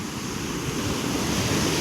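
Sea waves breaking on the beach at Kundapur, a continuous broadband wash of surf with wind noise, steady and fairly loud with no voices.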